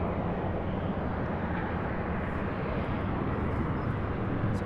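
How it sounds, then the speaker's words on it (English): An Airbus A320 airliner takes off at an airport, a continuous broad jet roar holding steady throughout with no talk. "So we have an A320 taken off."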